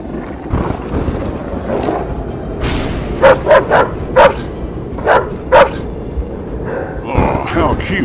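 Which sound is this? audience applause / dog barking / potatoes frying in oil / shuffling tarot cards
dog barking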